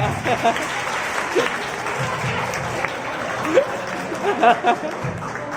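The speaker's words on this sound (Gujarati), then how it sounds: "જોરદાર તાળીઓના ગડગડાટથી વધાવો તેમને." Audience applause at a community prize-distribution ceremony, a steady broad clatter of many hands clapping throughout, with bursts of voices and murmuring mixed in.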